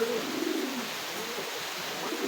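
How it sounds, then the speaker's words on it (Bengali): Pigeons in a loft give low, rolling coos that repeat close by over a steady soft background, with no talking. "আজকে আপনাদের নিয়ে আসছি আলামিন কবুতর ঘরে কিছু নতুন কবুতর কালেকশন দেখার জন্য"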